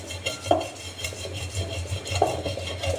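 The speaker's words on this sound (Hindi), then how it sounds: "तकरीबन 10 मिनट आपने ये चलाना है, इस तरह से रगड़ना है इसको" Ajwain seeds, almonds and poppy seeds are rubbed and ground by hand, producing a continuous close, gritty scraping and stirring with a couple of sharper clinks of the utensil.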